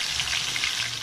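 Tilapia frying in hot oil, a steady, close sizzle with soft crackling that holds at an even level throughout, with no voices over it.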